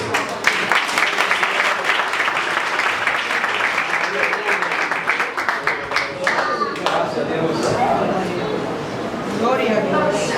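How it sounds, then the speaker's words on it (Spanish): Church congregation at an Iglesia de Dios Good Friday Seven Last Words service applauding loudly and continuously, a dense wash of claps with someone speaking over it. "Fuerte aplauso para él."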